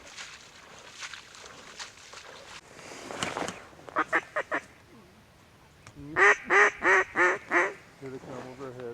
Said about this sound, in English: Got 2 mallards coming, bro.